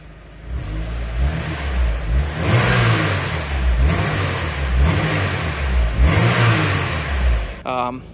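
A 1990 Mazda Miata fitted with a swapped-in NB2 VVT engine revs up and down in several steady surges, fairly smooth and restrained, with the engine note rising and falling across the run.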